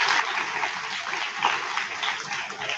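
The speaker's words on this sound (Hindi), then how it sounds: "तो अपने लिए जोरदार ताली फिर से बजाइए एक बार जरा।" Schoolchildren at a school event in Sahastradhara Road clap together in a dense, steady burst of applause that continues for the full few seconds at moderate loudness.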